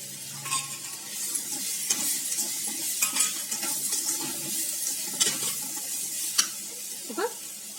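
Pieces of drumstick (moringa) sizzle as they fry in a pan, while repeated stirring adds scraping clicks and taps over a steady frying hiss. No one speaks.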